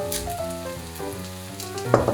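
Fried rice with eggs sizzling and frying in a pan for a Korean fried rice burger, a steady close crackle with brief stirring sounds and a louder burst near the end.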